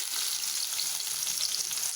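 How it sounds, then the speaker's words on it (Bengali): Onions hit hot oil in a pan with a dense, steady sizzle and crackle, loud and continuous with no talking. "দিয়ে দিব পেঁয়াজ।"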